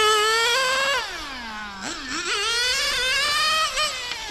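A Serpent 960 nitro RC car engine revs and drops with rising and falling whine, loud and close, with popping in the exhaust as the throttle closes.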